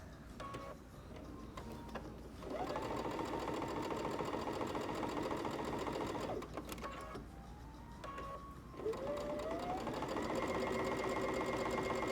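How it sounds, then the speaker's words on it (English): A sewing machine running at a slow, steady speed while stitching a quilt seam with a backstitch, its motor hum and needle chatter continuous and close, with a brief pause and a faint squeak partway through. "And I always do a little backup stitch just to be sure. And we have that on really slow."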